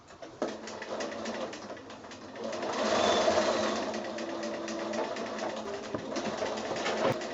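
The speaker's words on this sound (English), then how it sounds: "Now I'm actually sewing the wool felt piece inside here" A sewing machine runs steadily for several seconds, stitching a wool felt piece into a needlecase, with a brief start and a slightly louder, faster stretch midway; a faint bird cooing sits in the background.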